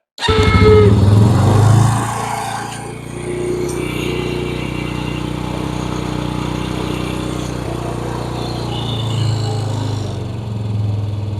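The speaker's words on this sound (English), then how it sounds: "Check out how good this Honda starts." A Honda TRX 90 ATV engine cranks and catches with a loud burst, then settles into a steady, slightly buzzing idle that runs on alone, swelling briefly near the end.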